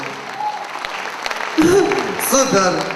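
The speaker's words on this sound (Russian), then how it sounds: "Аплодисменты Анечке." A concert audience applauds in a moderate wash of clapping while someone talks over it, his voice rising above the applause in the second half.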